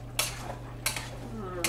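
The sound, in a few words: quick stir of food in a pan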